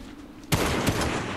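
Gunfire in the video game Fortnite bursts out abruptly after a quiet moment, with a sharp shot followed by a second crack and a dense rattling volley that stays loud to the end.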